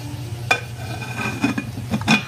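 A cooking pot lid is handled in a kitchen, giving a few sharp metallic clinks and knocks at uneven intervals over low steady background noise, fairly close and with no talking.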